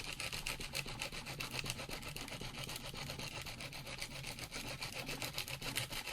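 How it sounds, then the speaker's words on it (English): A tool scrapes across the surface of a concrete pot in rapid, repeated rasping strokes, close up and fairly quiet, with no talking. "So I want to scrape this one down too"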